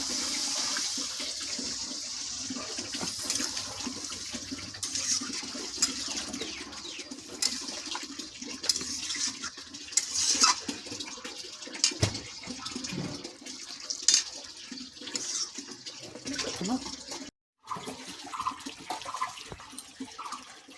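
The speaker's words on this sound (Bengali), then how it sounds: "এবার একটু জল দেবো অল্প করে অল্প করে জল দেব" Water is poured a little at a time into a pan of jackfruit and prawn curry being cooked, a continuous gushing and bubbling hiss for about twenty seconds, close and steady with a brief drop near the end and no talk.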